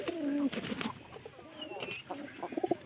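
A pigeon coos softly and repeatedly, in low throaty rolling calls close by, with faint rustling and a few quiet clicks between the phrases.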